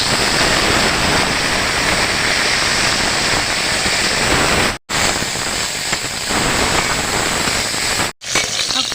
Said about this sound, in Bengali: তেলটা গরম হয়ে গেছে, আমি দিচ্ছি ফুলকপি।